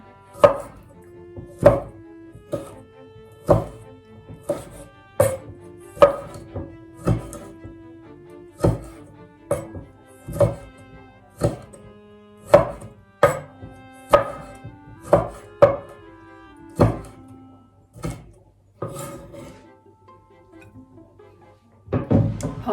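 Tomatoes pounded in a mortar for a Thai papaya-style salad: a steady run of about twenty loud, close wooden thuds at roughly one per second, thinning out near the end.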